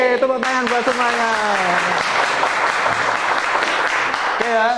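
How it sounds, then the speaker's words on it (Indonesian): Group applause from an audience at an Indonesian gathering, loud and steady for several seconds, with voices and some melodic cheering on top at the start and end. "Tepuk tangan buat semuanya."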